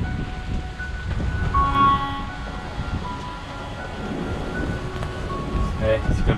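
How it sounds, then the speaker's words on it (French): Wind and arriving rain at sea in bad weather on the Indian Ocean, a continuous broadband rush with gusty swells, heard alone without speech. "Voilà, la pluie arrive, je vous montre."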